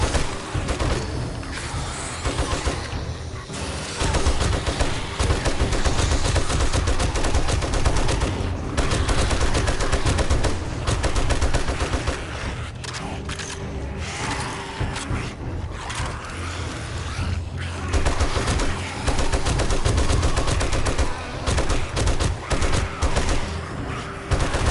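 Gunfire in the survival video game 7 Days to Die, dense rapid bursts of shots and booms filling the whole stretch with brief lulls, loud and continuous with possible faint talk underneath.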